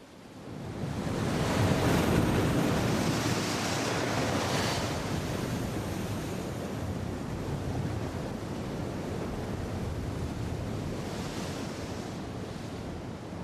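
Ocean waves break against steep, undercut limestone cliffs on Henderson Island, a loud, continuous roaring surge of surf that swells early and then holds steady, with no voices.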